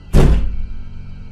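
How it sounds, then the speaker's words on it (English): A single loud, heavy bang strikes a bedroom door, a sharp thud that rings briefly and then fades into a low background hum. "I then heard a loud bang on the bedroom door"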